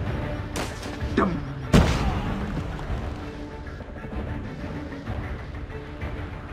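Gunfire in Call of Duty Mobile: a few sharp shots and a heavier booming blast early on, followed by a lingering rumble, with a voice speaking briefly.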